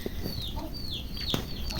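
Video-game chickens cluck repeatedly with a few higher drawn-out calls over a constant hum of game background sound; no voices are heard.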